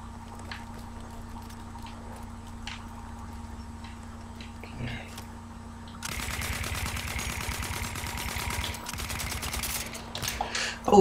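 Machine gun fire in Battlefield 1 erupts as a dense, rapid rattle partway through, loud and near over a humming battlefield background with scattered earlier clicks and thuds.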